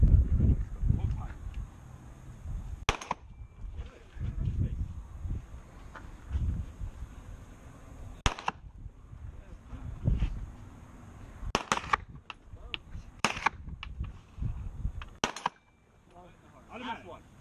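Pistol shots ring out at a blue steel target on a shooting range, about five sharp reports spaced several seconds apart amid an instructor's coaching talk.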